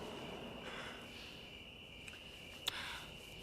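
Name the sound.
crickets chirping in a film scene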